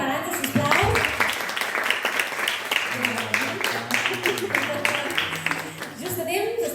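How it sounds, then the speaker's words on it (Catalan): An audience at a round-table discussion on romantic literature applauds a panel speaker named Arantxa, giving a sustained wash of close hand clapping over several seconds with a few voices mixed in. "Un aplaudiment per l'Arantxa, sisplau."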